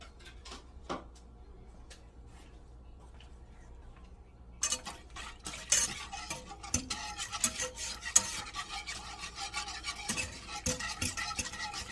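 Homemade eggnog is stirred with a spoon in a bowl, quiet at first, then a rapid run of light scraping and clinking strokes, close and faint.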